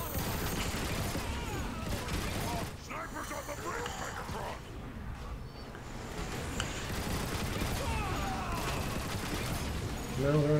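Dense gunfire and explosive bursts from a street battle in Iacon in Transformers: War for Cybertron, a near-continuous clatter of shots under several overlapping voices talking.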